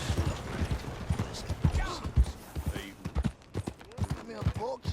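Horse hooves clip-clop in an uneven rhythm under intermittent talking, with some creaking and mechanical clatter around them, in the video game Red Dead Redemption 2.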